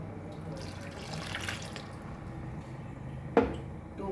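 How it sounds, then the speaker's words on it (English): Water is poured into a pan of Goan lady finger (okra) curry, giving a soft continuous trickle and a brief splashy burst near the end, fairly quiet. "Add the water."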